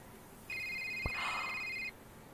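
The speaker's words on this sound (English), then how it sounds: "We got the phone call!" A phone ringing in the video game A Short Hike, a single electronic ring tone lasting about a second and a half with a short blip near its middle, fairly clear against a quiet background.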